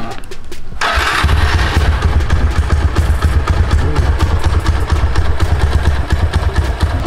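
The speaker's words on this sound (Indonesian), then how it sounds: "ini kalau misalnya suaranya mau dengar suara mesin yang masih standar, tapi knalpotnya udah dibobok ya, ini suaranya" A 2007 motorcycle with a stock engine and a drilled-out exhaust starts with a sharp burst, then idles loudly up close in a rough, throbbing, continuous rumble.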